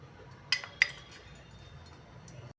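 Two quick spoon clinks against a bowl as spoonfuls of maida flour go in for restaurant-style cauliflower 65, faint and close with quiet room tone in between.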